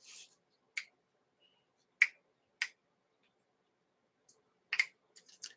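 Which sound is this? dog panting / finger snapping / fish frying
finger snapping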